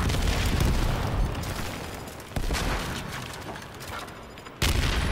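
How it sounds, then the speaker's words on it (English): Video game grenade blasts, deep booming explosions with rumbling tails, loud and close, two sharp new bursts cutting in partway through and near the end, no talking. "Grenade."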